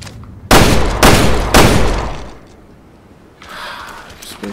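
Gunshots ring out in Resident Evil Revelations 2 as three loud, booming shots spaced about half a second apart, each trailing into a long echoing decay, followed by a quieter stretch of game noise.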